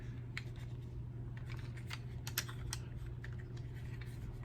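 Plastic parts of a Bumblebee Transformers toy click and snap together as it is handled, a quiet run of small sharp clicks and taps over a low steady hum, heard up close with no talking.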